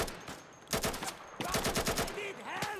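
Bursts of automatic gunfire and single shots crack out in an Insurgency firefight, coming in rapid clusters close by with brief gaps between volleys.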